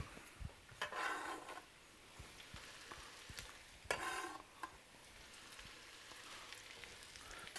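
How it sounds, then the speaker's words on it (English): About five cups of onions sizzling in hot oil and butter over medium-high heat, a steady crackling hiss punctuated by a couple of louder stirring bursts, close up with no talking. "You can hear them starting to sizzle already."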